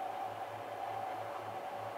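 A 3D printer lays down its first layer, a steady continuous whir and hum with a faint low pulsing motor rhythm, close and unbroken with no talking.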